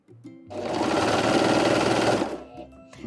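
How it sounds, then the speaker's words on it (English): A serger stitching neck binding onto a T-shirt runs in one loud, continuous mechanical whir for about two seconds, starting and stopping abruptly, with quieter handling sounds before and after. "we're just gonna stretch it out and sew it in there with the serger"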